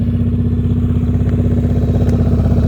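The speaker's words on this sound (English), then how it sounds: "M109R Suzuki, I think. Drag bike, like cruiser." A Suzuki M109R cruiser motorcycle rumbles close by with a loud, steady, pulsing low engine throb that runs through the whole moment.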